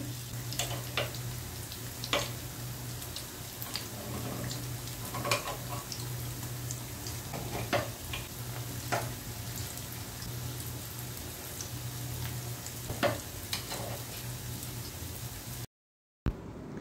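Unniyappam sizzle steadily in oil, with a scattering of sharp clicks as a spoon turns them in the pan, under a low constant hum.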